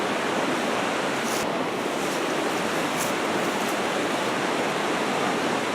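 Steady, broadband rush of a creek running through a town, continuous and fairly loud with no letup, close by.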